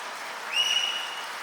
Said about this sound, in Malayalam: അതിനും ഒരു വലിയ കയ്യടി നിങ്ങൾ പ്ലീസ്